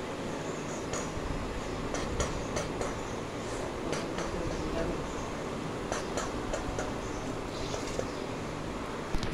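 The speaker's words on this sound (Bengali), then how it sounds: "তারপর তারা সবাই ট্রেনে উঠে পড়ে এবং ট্রেনটাও ছেড়ে দেয়।" A departing train runs on rails with a continuous low rumble and faint rhythmic clicks, heard softly and steadily throughout.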